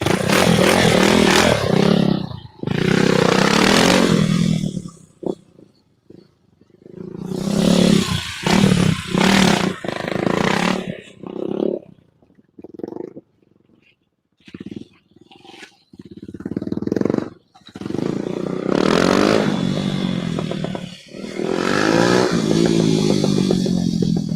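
A motorcycle engine revs in slow first gear, loud and close, surging and dropping in bursts with short quiet gaps where it nearly cuts out.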